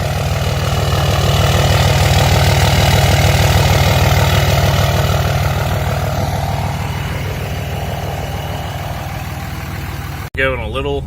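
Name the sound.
2003 Dodge Ram 2500 Cummins diesel exhaust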